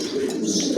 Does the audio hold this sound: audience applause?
no